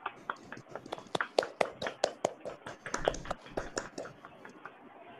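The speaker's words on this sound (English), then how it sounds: "can we have a huge round of applause for both of them?" Audience applause at a Toastmasters meeting heard over an online call, a scattered burst of claps from a few people, moderately quiet and uneven over several seconds.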